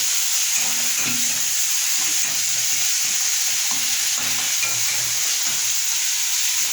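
Spices with salt, sugar and turmeric being stirred in a pan for Bengali fish curry give a steady, close scraping-and-sizzling rhythm that runs throughout, with no talking.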